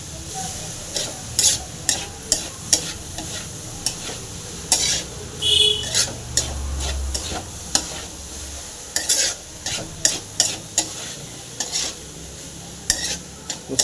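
Bottle gourd with chilli and peanuts is stirred in a frying pan: a soft sizzle under repeated loud scraping and clinking strokes of a spoon against the pan, coming in irregular bursts, close up, with no voices.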